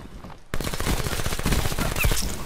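The VMP submachine gun fires in Black Ops 4, a sudden burst of rapid automatic shots that begins after a short quiet lead-in and keeps up as a loud, dense rattle.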